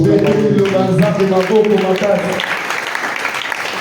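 A church congregation applauds during a Sunday thanksgiving service: a voice carries over the start, then a broad, steady wash of clapping fills the room for the remaining seconds.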